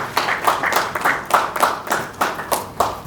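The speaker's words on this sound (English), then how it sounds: "with a round of applause, let's welcome Senor Hosi on stage here" A small audience at an economic forum event claps to welcome a speaker on stage, giving a few distinct loud clusters of hand claps that swell and fade in uneven bursts, without voices.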